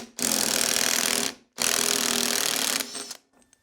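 An impact wrench hammers at a steering box nut on a Porsche 356 ZF unit, fitted with sockets not rated for impact use, in two loud, sustained close bursts separated by a short pause, then a brief softer whir and clicks.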